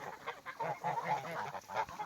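A flock of geese with their goslings honk and call in quick overlapping bursts, the goose calls rising and falling in a steady chatter at moderate distance, with no talking.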